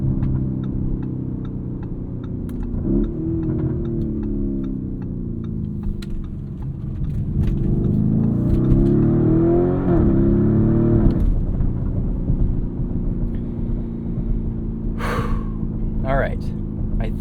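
A 2023 Lamborghini Urus S with a twin-turbo V8 accelerates, its engine rumble swelling through rising gear pulls to a loud sustained drone, then easing back to a steady cabin hum.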